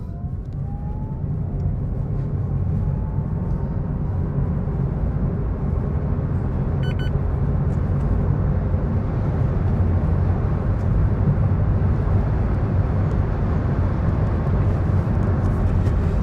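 A 2024 Citroen e-C3 electric car accelerating hard from a standstill, with no sport mode and the air conditioning off, giving a steady low road and motor rumble with a faint rising whine across the whole run.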